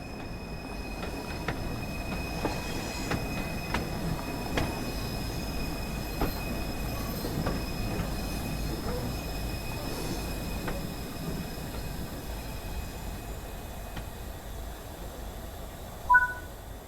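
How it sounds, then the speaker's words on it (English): A freight steam train pulls up to a station platform in the Spirit of Steam railway game, with a steady rolling rumble, rhythmic wheel clanks and a faint wheel squeal, then a short louder burst near the end. "Stand on the platform and wait for this train to arrive."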